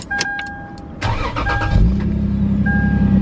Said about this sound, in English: with the car still off, have some pressure on there and turn on the car